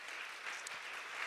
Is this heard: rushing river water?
no